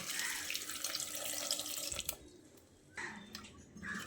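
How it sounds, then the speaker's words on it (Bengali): Water pours steadily into a pressure cooker of new potatoes and tomatoes for about two seconds, then comes in shorter splashing bursts, close and fairly loud in a home kitchen. "তারপর আমি এখানে পানি দিয়ে দিচ্ছি পরিমাণ মতো"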